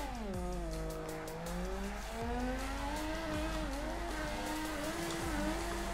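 A Mazda FC RX-7 fitted with an angle kit drifts after a handbrake initiation, its rotary engine holding a loud, sustained wail that rises and falls while the tires squeal continuously, close and without talk.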